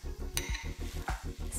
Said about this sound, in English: You already hear that sizzle.